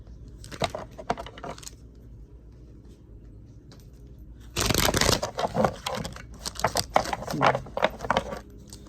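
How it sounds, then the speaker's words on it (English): Soft papery riffling of cards comes in short bursts, then a louder, longer stretch of shuffling with crisp flicks, close by and without talk. "I'm shuffling a little slow."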